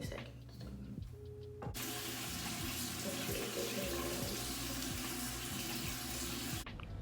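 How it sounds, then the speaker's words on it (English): Warm water runs from a tap for hand washing, a loud continuous rushing splash that starts after a brief muffled lead-in and stops abruptly near the end, close to the microphone. "I'm gonna go ahead and wash my hands with this with warm water"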